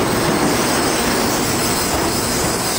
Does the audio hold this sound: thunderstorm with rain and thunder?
no